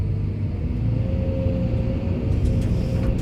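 Deep, steady engine rumble of an excavator idling and revving, loud and close, with a faint higher whine on top and no voices.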